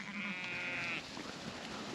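A single sheep bleat from a flock of farm ewes lasts about a second, fairly close and clear over quiet outdoor background noise.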